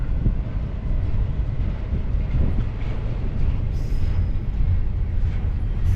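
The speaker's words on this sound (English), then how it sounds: "Train's coming up from San Bernardino through Vermont, Devore." A freight train rolls along the tracks at Keenbrook in Cajon Pass, a steady, broad rumble of wagons passing with faint wheel noise throughout, moderately loud and without talk.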